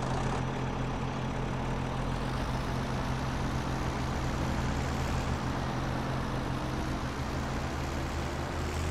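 A farm tractor idles in Farming Simulator 17, a steady low engine drone that holds constant and unbroken throughout with no talking.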